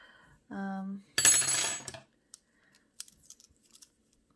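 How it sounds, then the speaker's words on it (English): Safety scissors snip through the tail of crochet cotton yarn on a coaster, giving one dry cut up close and alone, followed by a few faint small clicks and handling taps. "So I'm going to snip it here. I use safety scissors because I don't trust myself."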